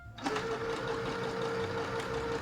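A sewing machine stitching fabric for an apron, starting up after a brief pause into a close, steady fast whirring hum with a rapid mechanical needle patter.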